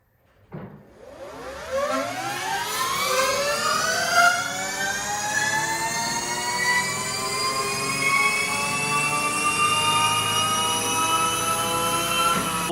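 A Sur Ron electric dirt bike fitted with a 72V ERT BAC8000 controller spins up on a dyno, its motor whine rising steadily in pitch into a loud, sustained high-speed scream with layered tones.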